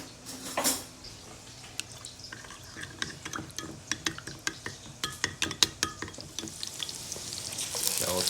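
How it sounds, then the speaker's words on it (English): Shallots sizzle steadily in a hot pan for a beef short rib noodle stir fry, with a run of sharp clicks and scrapes from stirring over the constant crackle. "Shallots have been cooking for a little bit."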